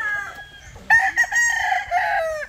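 Roosters crow and hens cluck close by, a loud crowing call rising over steady low barnyard clucking and rustle, a flock of chickens gathered for selection.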